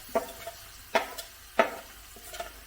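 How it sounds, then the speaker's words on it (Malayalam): Ginger garlic paste stirred into frying onions and carrots in a pan for masala rice, with a few distinct scraping stirs and soft sizzling between them, quiet and close. "ഇനി നമുക്ക് അരച്ച് വെച്ചിരുന്ന ഇഞ്ചി വെളുത്തുള്ളി പേസ്റ്റ് ചേർക്കാം"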